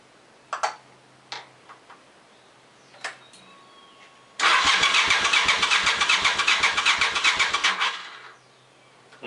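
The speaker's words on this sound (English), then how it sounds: "Now I'm going to unplug just the front cylinder spark plug wire." A Suzuki TL1000 motorcycle engine cranks and fires after a few faint clicks, then runs loud and close on one cylinder with an uneven, lumpy pulse for about four seconds before cutting out.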